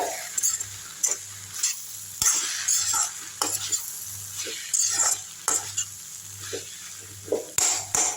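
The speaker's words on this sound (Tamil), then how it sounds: "இப்போ நல்லா இதை வந்து கிண்டி விட்ருவோம் இந்த சூட்லேயே" Shredded egg chapati kothu parotta stirred in a hot pan, a spatula scraping and clanking in a steady rhythm over a continuous sizzle of frying, close and alone with no talk.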